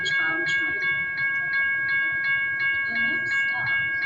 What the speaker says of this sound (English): Cosumnes River College bound train.